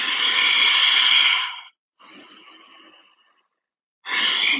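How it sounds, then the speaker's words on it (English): Slow, deep breaths during a yoga flow, with a long exhale, a pause, a softer second breath, silence, then another strong breath, close and alone. "Breathing here."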